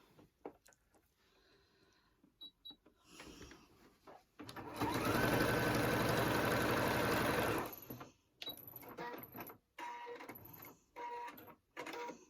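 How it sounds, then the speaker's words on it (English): Quilt binding is being stitched on at a sewing machine: a steady, loud burst of stitching lasting about three seconds, framed by quieter handling clicks and brief bursts of fabric movement before and after. "here we are at the sewing machine and I'm going to start to sew my binding on"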